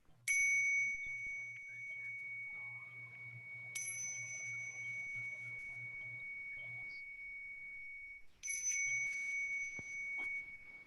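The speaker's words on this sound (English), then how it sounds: "I will begin with 3 bells." Three clear meditation bell tones strike a few seconds apart, each ringing out and slowly fading in a quiet room.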